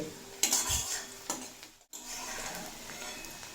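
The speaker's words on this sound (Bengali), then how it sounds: "পেঁয়াজটা নরম করে ভেজে নেব লাল করে ভাজার প্রয়োজন নেই নরম করে ভেজে নিলেই হবে" Chopped onions frying soft in a pan, with scraping stir strokes and clatter over a steady low sizzle, fairly close.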